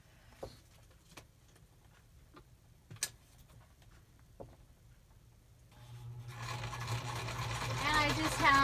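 A sewing machine stitching a zigzag on antique postcard tags for a junk journal starts with a few scattered ticks and taps, then runs as a steady, moderately loud mechanical whir across the final few seconds.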